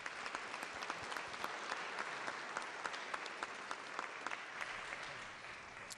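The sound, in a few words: applause from the legislature chamber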